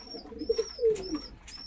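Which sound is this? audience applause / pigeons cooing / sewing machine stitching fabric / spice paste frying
pigeons cooing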